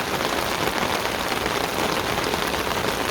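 A sudden heavy downpour pours steadily onto a rooftop garden, forming a dense, continuous hiss of rain close by with no pauses.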